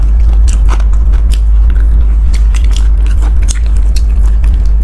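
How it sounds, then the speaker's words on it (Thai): Crunchy food, apparently fried and coated in batter, bitten and chewed close up, with steady crisp crackles repeating throughout over a constant loud low hum, no talking. "ได้ยินเสียงกรอบไหม"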